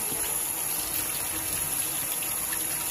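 Fresh vegetables washed under running water, a steady faint gush of tap flow continuing throughout without speech.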